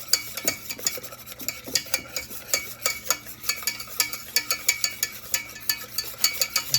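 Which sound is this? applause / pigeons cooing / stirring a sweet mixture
stirring a sweet mixture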